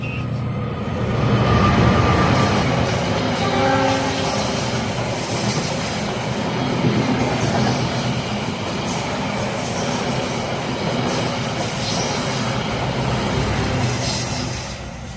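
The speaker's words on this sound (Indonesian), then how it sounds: "Ada kereta ya, bentar." A train rumbles past close by, a heavy continuous roar with rattling wheels and faint squeals, steady for the whole stretch.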